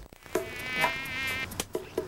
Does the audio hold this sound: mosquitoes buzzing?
yes